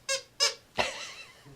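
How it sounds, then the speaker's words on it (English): Three sharp squeaks from an old couch, two short evenly spaced creaks followed by a longer, wavering groan that trails off, close and loud against a quiet room. "We're gonna go ahead and try to find a way to replace that couch because it's obviously too squeaky"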